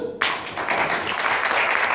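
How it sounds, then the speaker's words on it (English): An audience at a magic show breaks into sustained applause, many hands clapping together in a loud, continuous wash that holds steady throughout. "Give her a round of applause."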